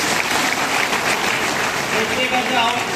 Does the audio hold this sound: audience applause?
yes